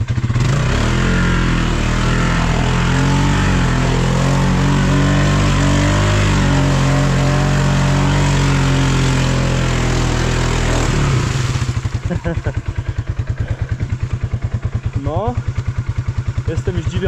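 A Polaris 570 ATV with a resealed CVT drives along, its engine droning loud and steady close by, then dropping to a rough, pulsing idle-like chug near the end.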